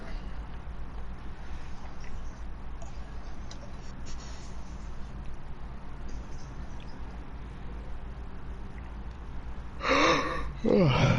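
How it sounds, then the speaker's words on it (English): A person yawns near the end, a brief breathy burst that rises over a steady low background hum after a long stretch of quiet. "I keep fucking yawning"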